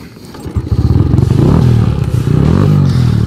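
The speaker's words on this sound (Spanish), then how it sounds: "esperemos que me arranque la moto" A 150–200cc motorcycle engine sputters, catches and settles into a loud, close, rapid idle thrumming after a few uneven starting pulses.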